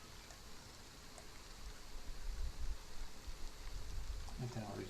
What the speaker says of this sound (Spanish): Mira, mira cómo llueve, ¿eh?